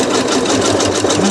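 Sewing machine stitching a drawstring bag seam, running steadily and close with a rapid, even needle chatter as it crosses a seam, with the operator going slowly.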